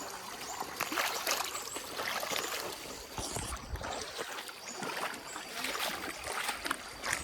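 Mountain stream on Mt. Balinsayaw trickles and gurgles nearby, a quiet, continuous babble with uneven splashy bursts and no clear talk.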